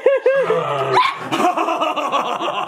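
A small dog barks and yips in quick repeated bursts, close and loud, with a short whimpering tone between them.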